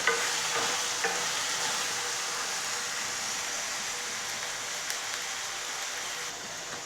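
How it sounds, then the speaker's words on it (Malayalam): Brinjal pieces fry in oil as they are stirred in a pan for a masala fry, giving a continuous sizzle with occasional scrapes and clicks of the spoon, close and steady, with no speech. "ഇത് നന്നായിട്ട് ഇളക്കി വേവിച്ചെടുക്കാം"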